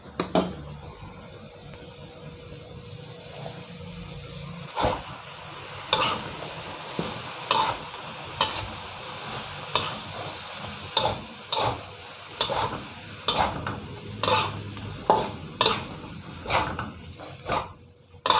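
Glass noodles stir-fried in a wok with egg and sauce: a soft sizzle broken by regular, crisp scrapes and taps of the utensil against the metal, close up with no talking.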